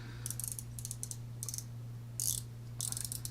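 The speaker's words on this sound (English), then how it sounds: "It's actually got a fairly decent ratchet to it." Short bursts of sharp ratcheting clicks from the turning bezel of a J Brackett Chios watch, a 316L stainless steel case with a coin-edge bezel, heard close and quiet over a low steady hum, with brief gaps between turns.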